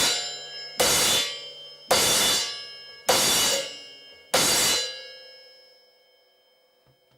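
A cymbal on a drum kit is struck and choked four times in a loose, regular rhythm, each loud bright crash cut off after about a second, leaving a faint lingering ring that fades over several seconds.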